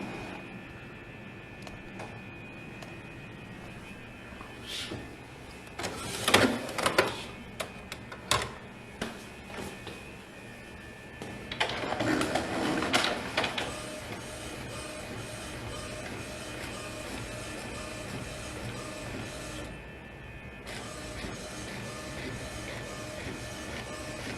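An Epson inkjet printer running off a tattoo stencil, with a steady mechanical hum under two louder bursts of clattering head and paper movement, then a quieter continuous whir.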